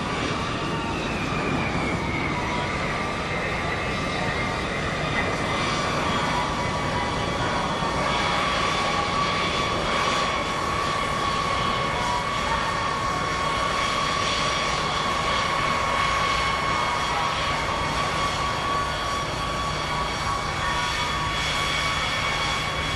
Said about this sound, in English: we get ready to taxi the aircraft out to the hammerhead